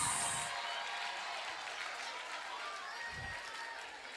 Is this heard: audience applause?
yes